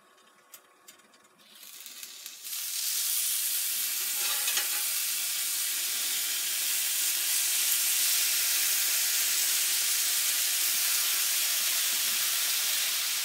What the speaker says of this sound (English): I have the bacon going down